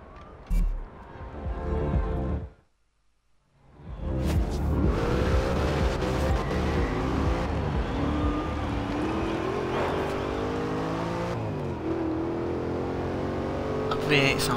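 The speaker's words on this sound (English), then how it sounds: "That V8 sounds sweet." In the Forza Horizon 2 racing game a V8 car engine revs hard through rising, falling sweeps, loud and close after a short silent gap, with engine tones shifting as the car accelerates.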